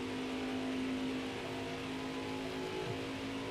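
Race cars lapping the Pocono oval in the NASCAR Heat 5 video game, heard as a steady, loud engine drone that holds an even pitch throughout, with no speech.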